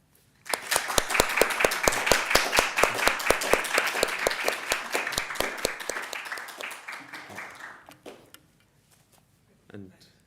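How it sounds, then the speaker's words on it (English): A lecture audience at a Society of Antiquaries of Scotland evening breaks into sustained applause, a dense, steady clapping that runs for several seconds before thinning out and stopping, with a few scattered claps at the end. "So I'd like you all to join me in a round of applause,"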